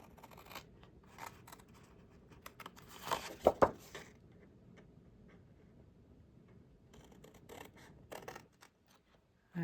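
Scissors cut paper for a 6x8 folio photo album, a slow run of faint snips and crinkles with a louder cluster of cuts in the middle and quieter rustling toward the end, no talk.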